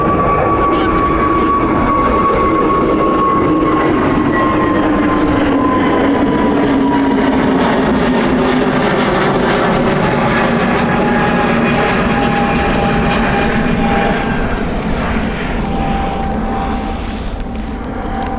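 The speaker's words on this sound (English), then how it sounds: "EasyJet taking off" An EasyJet passenger jet takes off at Edinburgh Airport, its engines roaring loudly with a rising whine and broad rumble that swells and holds, then slowly fades as it climbs away.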